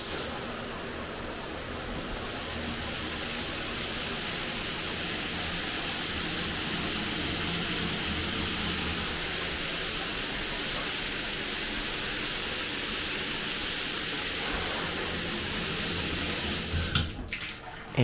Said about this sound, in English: The shower head's pretty good, a lot of pressure, heats up pretty well.